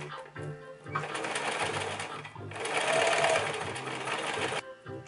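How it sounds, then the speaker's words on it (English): A domestic sewing machine fitted with a zipper foot stitches down a zipper flap, its motor whirring in two steady bursts with a brief pause between, loud and close. "I'm going to use my zipper foot on the sewing machine and I'm just going to sew that down"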